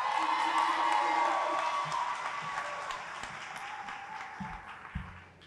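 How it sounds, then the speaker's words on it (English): Crowd at a high school graduation ceremony applauds and cheers, loud clapping with whoops that gradually fades toward the end, then a few thumps and a voice. "Let's give another big round of applause for the class of 23."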